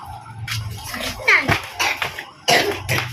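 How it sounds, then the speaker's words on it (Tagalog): A single sharp cough outdoors in a rural Philippine provincial yard near fruit trees, close and loud, followed by a few more throaty bursts and nearby movement. "Ubo."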